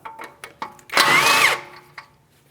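A power tool whirs in one short burst of about half a second as it spins off the 18mm mounting nut on an outer tie rod of a 2016-2025 Chevrolet Malibu, with a few light taps and clicks before and after.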